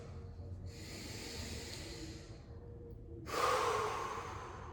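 A deep breath during a yoga practice: a soft, drawn-out breath flows in for a couple of seconds, pauses, then a louder, rougher breath follows, close and alone.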